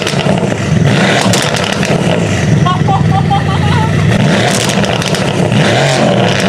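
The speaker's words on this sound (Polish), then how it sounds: "teraz warto go przygazować trochę." An 801 hp sleeper car fitted with a Brabus exhaust is blipped and revved, loud and close, its rough exhaust note rising and falling while someone talks over it.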